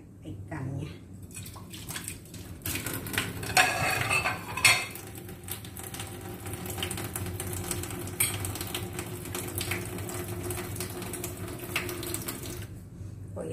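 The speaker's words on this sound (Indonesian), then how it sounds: "Minyak panas, kita goreng ikannya." Tongkol fish frying in hot oil, a steady close crackling sizzle with a few sharper clatters of pan or utensil early on, running continuously with no talk.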